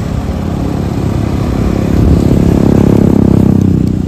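A motorcycle cruising on a highway at night during a long return ride, its engine a steady loud drone with wind rush that swells slightly louder midway, heard close with no talking.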